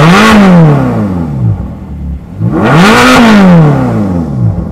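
The 4.3-litre V8 of a Ferrari California revs twice in close succession, each blip rising sharply to a loud snarl and falling away, heard up close with no talking.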